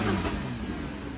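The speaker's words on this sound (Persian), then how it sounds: "ولی بازم صدای ماشین اینجوری دوست دارم، مخصوصا تو اتوبان که اینجوری گاز میدی" A car engine revving as it accelerates on a motorway, a brief loud rising growl that settles into a steady hum, with no talk over it.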